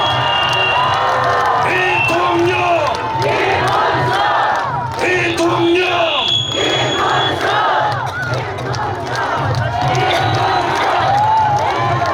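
A large outdoor crowd at a Daegu presidential election rally roars and cheers continuously and loudly, with shouts and whoops rising over a steady din and a voice through the public address.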